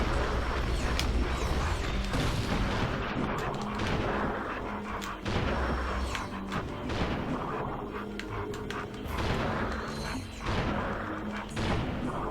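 Heavy, booming weapon shots from Ratchet & Clank: Going Commando in Challenge Mode on PS3, a series of loud thudding blasts and crashes spread across the stretch with mechanical game noise between them.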